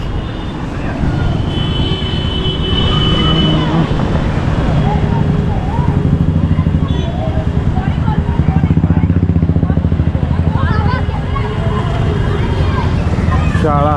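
Vehicles idle at a busy city traffic signal in Kolkata, with a dense, close engine rumble, brief horn-like tones near the end and voices mixed into the street noise.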